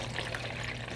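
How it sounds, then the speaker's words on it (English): Fresh water poured into a large collapsible water pail for watercolor painting, a soft, steady splashing pour heard up close and alone for about a second. "I use a large collapsible water container, pour some fresh water in there"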